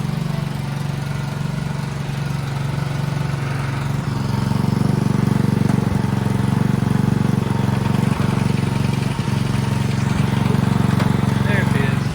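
A John Deere 57 rear-engine riding mower runs with a steady, loud low engine drone, its pitch rising slightly as it pulls away partway through, with a voice speaking over it.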